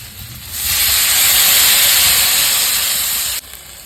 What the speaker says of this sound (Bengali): এখন একটু সামান্য একটু জল দেবো।